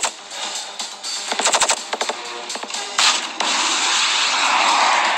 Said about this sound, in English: the LMG light machine gun